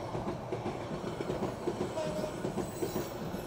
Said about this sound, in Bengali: রেল গেট থেকে ট্রেন দেখার মজাই আলাদা